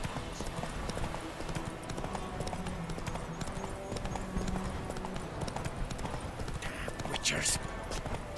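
Clip-clopping hooves of Roach, the horse in the video game The Witcher 3, trotting in a steady rhythm throughout, with someone talking over them and a brief louder burst near the end.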